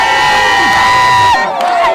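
A jubilant crowd cheering at a rally in Mweso, in the Bashali Mokoto grouping: loud, continuous massed shouting and whooping right up close, with a brief dip near the end.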